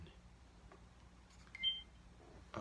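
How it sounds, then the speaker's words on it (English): A short electronic notification beep from a Canon G7X Mark II camera or a phone, a single faint tone in a quiet room with light handling noise around it. "I just got a notification"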